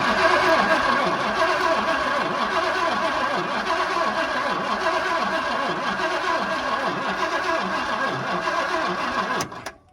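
Engine of a 1978 Ford Bronco barn find cranks steadily after gas is poured into the carburetor, a continuous churning mechanical drone that runs for nearly ten seconds before cutting off abruptly.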